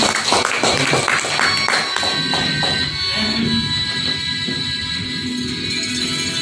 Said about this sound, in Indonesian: Tepuk tangan buat Mas Afif